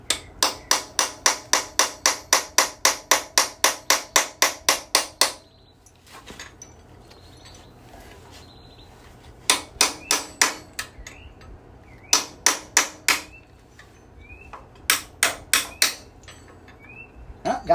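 A hammer strikes a chisel in sharp metallic blows while a Bel Air rear suspension part is knocked loose. Rapid strikes come in steady bursts, separated by quieter pauses.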